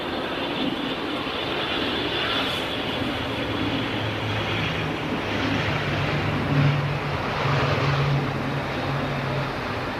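A turboprop ATR airliner coming in to land at Manchester Airport gives a steady, continuous engine drone with a low propeller hum, fairly loud and unbroken against wind for the whole stretch.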